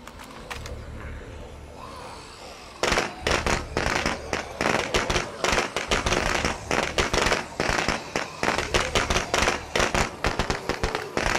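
A rapid string of sharp firecracker pops and crackles in the video game State of Decay 2 bursts in loudly after a quieter stretch, continuing in dense irregular bursts.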